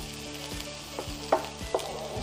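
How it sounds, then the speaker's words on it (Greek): Onions and garlic sauté in a hot frying pan with only a little oil, giving a steady close sizzle with a few soft stirring knocks and scrapes. "μετά από έτσι να σοτάρουμε λίγο τα κρεμμύδια μαζί με τα σκόρδα"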